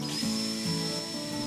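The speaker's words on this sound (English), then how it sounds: "It's always a good idea to take the extra precaution and pre-drill your holes before you put the screws" A power drill whines steadily while pre-drilling screw holes in a thin pallet board. The motor tone holds for about a second and a half with a slight dip in pitch as the bit bites, close and alone.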